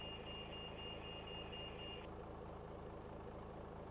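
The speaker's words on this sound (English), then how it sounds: "You hear a warning because the gears are going to lift up." Warning beeps during pushback in the X-Plane 11 flight simulator game, a steady high tone pulsing for about two seconds before stopping, over a constant low engine hum, faint overall.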